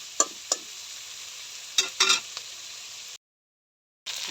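Vegetables fry in a pan under a steady hiss of sizzling, punctuated by a few sharp scrapes and clatters of stirring, then a brief silence before the sizzle resumes.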